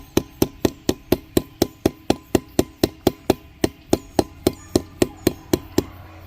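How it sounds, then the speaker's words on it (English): A hammer taps a bollard anchor piece down into a hole drilled in concrete, about twenty sharp, evenly spaced metallic strikes in a steady rhythm, close and loud, with no talking. "We're going to put it in the hole and we're going to tap it down in there."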